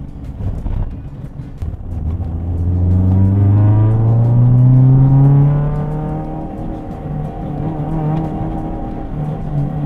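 A Honda CR-X engine revs hard while driving, loud and close from inside the car, its pitch climbing through the gears and then easing back to a steady drone.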